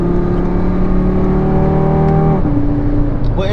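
A car with a loud welded custom aluminum intake pipe, swapped in for an APR carbon fiber intake, holds a strong harmonic engine drone, then the pitch drops as the revs shift, loud and close.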